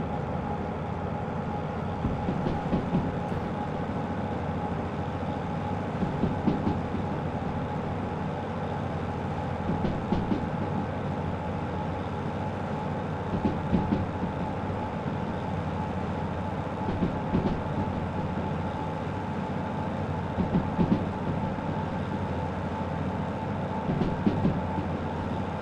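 DE2 and DE6 diesel locomotives rolling on rails in the game Derail Valley, a steady low engine rumble with rhythmic clickety-clack wheel beats recurring every few seconds, continuous and close, no speech.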